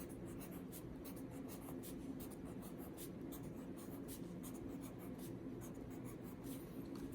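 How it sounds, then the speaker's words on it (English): A pen scratches steadily on paper, writing out binary digits by hand in a series of quick, faint strokes and taps. "So I'm going to write out my bits."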